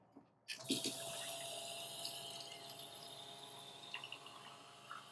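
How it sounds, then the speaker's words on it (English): Water running steadily from a campervan sink tap, starting abruptly after a brief quiet moment and then flowing continuously at close range, fairly soft overall. "Opening up the sink now."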